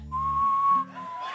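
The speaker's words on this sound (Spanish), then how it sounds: "El chiflido." A single sustained whistled note from a person on a stand-up comedy stage rises slightly and then breaks off, followed by a brief softer tail, loud and close with no talk over it.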